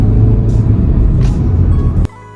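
A Hyundai Grand i10 Sedan's 1.2 litre naturally aspirated engine produces a loud, steady low rumble at close range, with no talk, then cuts off abruptly near the end.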